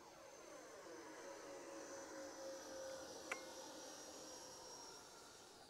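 An FMS Futura 64mm EDF model jet flies over grass, giving a faint, steady whirring whine that holds evenly and sounds distant throughout.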